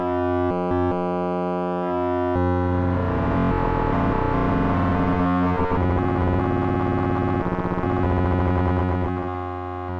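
A harsh, buzzing synthesizer tone from an Arturia Music Easel and Doepfer A100, using wave folding and audio-rate modulation, with gritty, metallic overtones that shift and warble continuously, loud and alone throughout.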